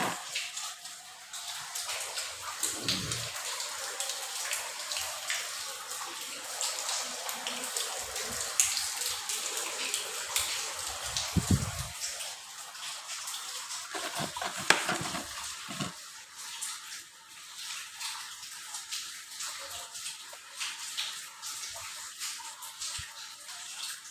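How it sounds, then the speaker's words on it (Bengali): Heavy storm rain and floodwater around a house at night make a continuous rushing, splashing wash of water, fairly loud and unbroken, with a few louder surges. "পানিতে থই থই করতেছে বাহিরে"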